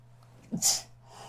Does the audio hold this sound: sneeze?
yes